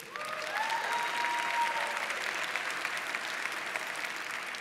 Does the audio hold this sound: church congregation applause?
yes